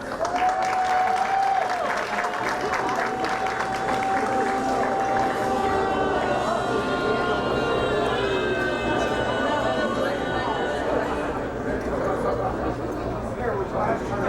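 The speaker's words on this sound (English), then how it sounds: "Applause, please." A pageant audience applauds a contestant walking onstage during the evening competition, a steady crowd roar of clapping lasting throughout, with an announcer's voice and music faintly threaded through.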